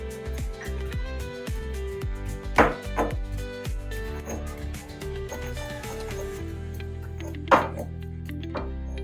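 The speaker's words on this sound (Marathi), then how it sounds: "आता ठेचून घ्यायचं." Green chillies and salt pounded with a pestle in a stone mortar, giving a series of dull, irregular thuds and knocks close by, with a few sharper strikes standing out among the steady rhythm.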